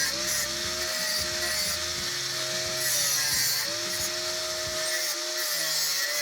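A power tool whines steadily as it cuts off excess aluminium profile about 3 cm from the ends of 20 cm pieces at an angle, the pitch dipping in repeated passes before dropping off near the end.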